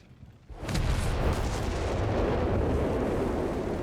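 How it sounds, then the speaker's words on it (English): Artillery fire from a Company of Heroes 3 match, American forces shelling German positions, booms in dense rumbling continuous barrage starting after a half-second quiet lead-in, loud and sustained throughout. "And we got Howard to fire, of course, trying to snuff out the Germans."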